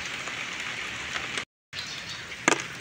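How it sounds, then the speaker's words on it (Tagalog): Rain patters steadily on surfaces outdoors, a dense, even hiss at moderate level, briefly cut off and then resuming. "medyo humihinto na yung ulan"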